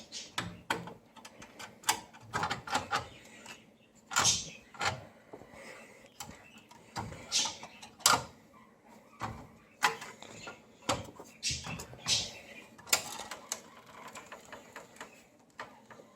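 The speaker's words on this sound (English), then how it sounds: "for that we have to loosen the screws up here" Screws being loosened on a Saba T116V television set during restoration, heard as a string of close, sharp metallic clicks and ticks at irregular intervals, with soft scraping and handling noise between them.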